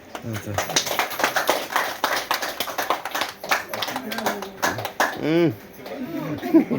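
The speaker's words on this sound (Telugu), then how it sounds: "క్లాప్స్ కొడతా ఉన్నాడు జోరుగా" Vigorous hand clapping at a grandson's birthday celebration held at an ashram during a food-offering event, with rapid sharp claps running steadily beneath continuous talking voices.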